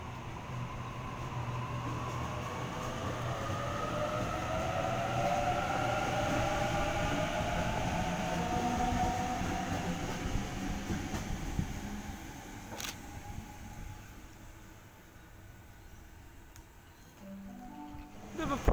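A Sydney train, set A30, pulls out of Hurlstone Park station with a rising electric motor whine over a rumble of wheels. The sound fades slightly before a brief clatter at the end.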